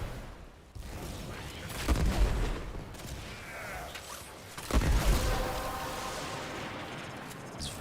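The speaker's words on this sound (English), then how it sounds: "Also was used to not getting berated by the sound of explosions in my ears" Heavy booming blasts and gunfire-like bursts in the video game Warframe, with two loud explosive hits standing out against a constant rumbling battle din.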